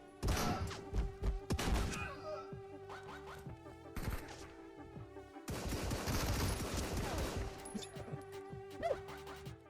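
Gunfire rattles through a fight in the game Marauders, set in an asteroid mine: loud repeated shots and rapid bursts with thuds and crashes, pausing briefly before another dense volley.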